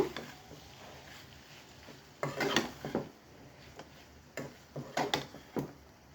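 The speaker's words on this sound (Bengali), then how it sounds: "এখন আমি এখানে এগুলো দিয়ে দিচ্ছি চিংড়ি আর মশলাগুলো ভালো করে মিক্স করে নেব" Peeled shrimp and spices are stirred together in a pan for a shrimp bhuna, with short bursts of scraping and clinking from a utensil between quiet stretches, close and soft.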